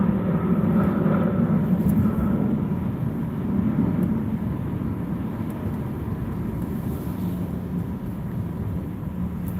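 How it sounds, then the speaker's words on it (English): A plane passes overhead as a low, broad roar, loud and steady at first and fading slightly over about ten seconds, with no voices. "Oh, there goes the plane, you see it?"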